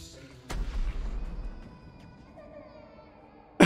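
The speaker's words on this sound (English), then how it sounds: "We had to load him in the fucking cannon." A cannon fires in the video game The Baby In Yellow: a single sharp, loud boom with a short rumbling tail, followed by quieter game ambience and a brief burst near the end.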